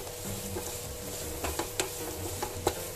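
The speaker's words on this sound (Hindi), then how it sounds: "अब हम इसमें डाल देंगे इलायचियां, जो 5 से 6 इलायचियां मैंने कूट कर रखी थी, और इसे अच्छी तरीके से मिक्स कर लीजिए।" Almond halwa stirred in a pan after crushed cardamom goes in, a soft continuous scraping hiss with a few sharper utensil clicks near the end, fairly quiet and steady, no voices.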